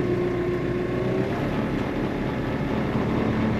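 Steady mid-level engine drone from a KIOTI RX7330 tractor, a Korean machine of around 75 hp, reversing. The even rumbling hum holds nearly unchanged throughout, with no talk over it.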